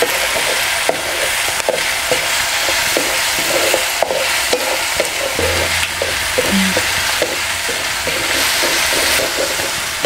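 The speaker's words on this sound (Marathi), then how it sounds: "आता आपण ह्यामध्ये बारीक चिरलेले टमॅटो घालूया। टमॅटो छान असं आपण मऊसर असं परतून घ्यायचं।" Finely chopped tomatoes are sautéing with garlic in a pan, giving a continuous loud sizzle broken by repeated scrapes and knocks of a spoon stirring, with no voices.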